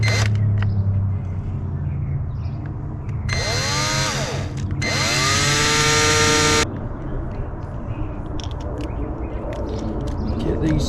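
Handheld power drill boring screw holes for a DIY retractable kayak skeg, two loud whining bursts that spin up and wind down in quick succession, with low background noise before and after.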